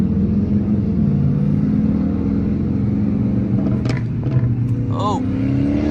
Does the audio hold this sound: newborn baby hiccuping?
no